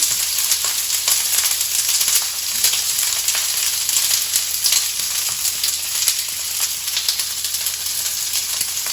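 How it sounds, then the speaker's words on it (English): Peas hitting hot oil in a pot, a steady dense sizzle and crackle that holds loud and close throughout. "Let's get a little bit of oil in the pot. Okay, and we're just gonna toss the peas right in."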